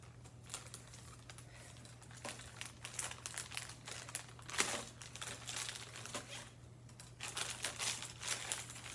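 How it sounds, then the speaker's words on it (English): Plastic bags holding small robot-kit parts for a tin can robot are opened, giving quiet crinkling and rustling in scattered bursts over a steady low hum, with no talk. "So let's open up all of our bags and see what we got here."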